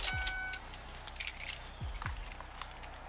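Car keys jingle and clink close by in short, irregular bursts, with a low car engine hum fading out underneath as it is turned off.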